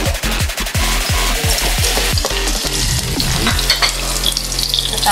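Garlic sizzles loudly in hot cooking oil, with a burst of rapid spatula scrapes and pan knocks at the start before settling into a steady, crackling fry.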